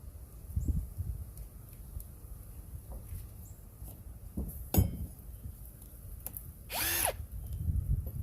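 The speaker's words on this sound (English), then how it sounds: "I don't usually like to tighten or loosen bolts with an impact" An impact driver spins out muffler bolts on a Can-Am Outlander 650 in a few brief, faint whirring bursts, with light metallic clinks between them in a quiet shop.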